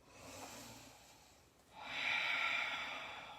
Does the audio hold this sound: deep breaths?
yes